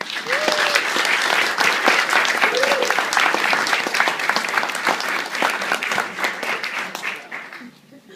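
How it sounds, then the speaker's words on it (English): Sustained applause from a wedding reception crowd honoring the bride's family, dense and loud throughout before tapering off near the end. "If we could just a round of applause for all of that."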